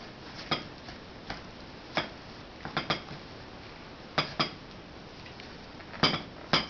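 Sticky energy bite mixture is pressed and pulled with a utensil in a bowl, making soft, irregular clicks and taps against the bowl over a quiet background.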